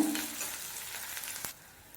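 Small onions and green chillies sautéing in a pan for a Nagercoil-style anchovy thuvaran, a close crackling sizzle with stirring that drops away sharply near the end of the two seconds.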